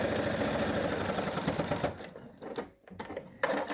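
A sewing machine runs a quarter-inch seam on a quilted lap pad block, a rapid, even mechanical clatter of stitching that stops partway through, followed by a few quieter clicks and handling sounds.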